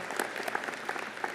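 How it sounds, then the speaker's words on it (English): Brief, fairly faint applause from a civic audience at a State of the City address, scattered distinct claps rather than a full roar, lasting just over a second. "Give them a round of applause."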